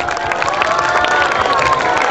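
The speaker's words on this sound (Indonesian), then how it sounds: "tepukan untuk YB kita" A crowd cheers and applauds at a live concert in Kabong, Sarawak, with loud, dense clapping and shouting blended into a continuous roar.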